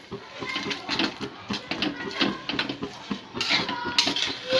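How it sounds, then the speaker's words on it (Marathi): Pithla being stirred in a pan with coriander over a medium flame, close busy scraping and clinking of a metal spoon against the pan in quick irregular strokes, with a low murmur of a voice underneath. "त्याच्यावर कोथंबीर टाकून घेऊ बीर टाकून परत एकदा असं हलवून घेऊ आपण"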